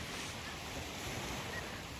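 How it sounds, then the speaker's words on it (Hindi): Wind-driven waves lap on the shore of Lake Ontario in Canada. The water makes a steady, even wash mixed with rushing wind noise on the microphone, with no distinct breaks and no voices. "मुझे ये बहुत ही प्यारी आवाज़ लगती है पानी की, और जब तेज़ हवा होती है तो लहरें होती हैं।"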